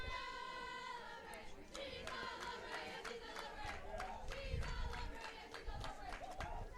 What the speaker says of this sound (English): A fast-paced cheer going on through the dugouts.